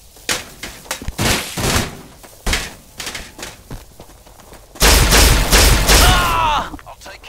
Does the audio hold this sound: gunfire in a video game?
yes